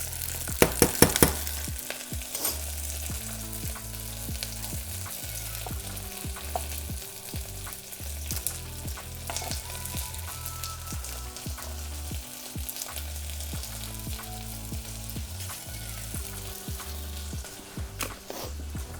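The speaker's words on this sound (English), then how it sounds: "You're starting to get that nice caramelisation on the onions there, and these ones are just sweating down in their own juices." Onions fry and sizzle steadily in a pan while caramelising, with a continuous crackling hiss and occasional stirring scrapes. No one talks.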